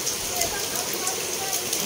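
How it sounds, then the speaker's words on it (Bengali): Heavy rain pouring steadily outdoors, a dense continuous hiss with scattered droplet patter throughout, nearby and fairly loud. "দেখতে পাচ্ছ তো তোমরা বৃষ্টি কেমন কীভাবে হচ্ছে"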